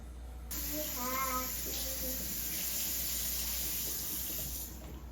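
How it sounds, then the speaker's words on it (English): Tap water runs steadily while hands are washed under it at a sink, a constant close rush that starts abruptly and stops near the end, with a brief voice humming or speaking over it early on. "I'll wash my hands"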